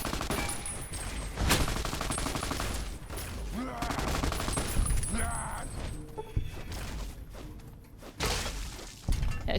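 Avenger minigun spraying in Fallout New Vegas, a continuous loud rattling stream of rapid shots with shattering impacts and thuds, broken by short pauses amid game sound.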